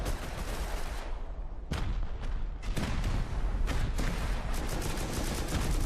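Rockets exploding on a base during a large raid in the survival game Rust, a rapid barrage of loud booms and sharp blasts overlapping one after another, dense and continuous with no talk.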